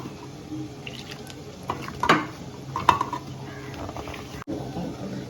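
Wheat flour dough with a pinch of salt is mixed and kneaded by hand, giving soft, steady stirring and scraping noises with a couple of sharper clatters midway; no one speaks.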